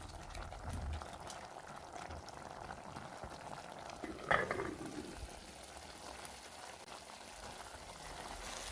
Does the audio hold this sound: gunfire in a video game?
no